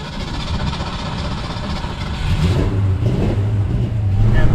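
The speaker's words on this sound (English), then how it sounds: "Well, it's doing a hard start." A 1963.5 Ford Falcon Futura engine struggles through a hard start, then catches and revs up, loud and close, building in pitch toward the end.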